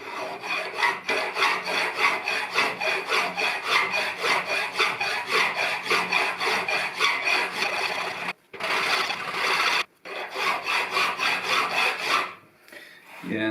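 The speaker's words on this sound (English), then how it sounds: "so resort to an old-fashioned file" A hand file rasps across a steel Triumph Tiger Cub motorcycle frame in steady back-and-forth strokes, close and rhythmic, pausing twice briefly before resuming and tailing off.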